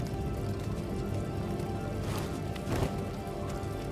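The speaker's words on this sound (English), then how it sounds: "Ooh, it's raining." Steady rain in the video game Star Wars Jedi: Fallen Order, a continuous hiss of falling water with a couple of brief louder splashes near the middle, no voices.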